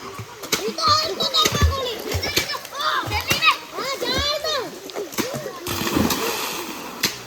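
Children splashing and playing while swimming in muddy, dammed-up water in Kavalappara, with lively shouts, squeals and repeated splashes close by throughout.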